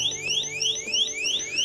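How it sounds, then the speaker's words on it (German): A sabotage contact alarm sounds on an escape-route door with a code keypad, a loud, rapid series of rising electronic chirps repeating steadily and alone, with no talking. "es wird einmal ein Alarm losgehen aufgrund des Sabotagekontaktes"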